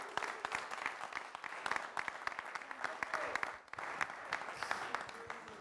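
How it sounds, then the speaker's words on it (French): A TV studio audience on a Burkina Faso entertainment show applauds to welcome a young boy onto the stage, with dense, steady clapping that runs throughout. "accueillir avec un tonnerre d'applaudissements ce jeune garçon"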